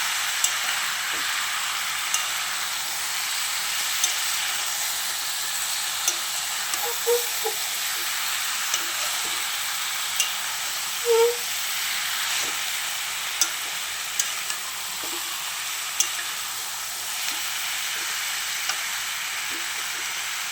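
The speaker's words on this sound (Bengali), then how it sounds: "সব মশলা অ্যাড করা হয়ে গেছে, এখন কষাবো ওটাকে" A spice mixture stir-fries in a pan, giving a steady, dense sizzle with soft scraping stir strokes and a few small pops, all close and continuous with no voices.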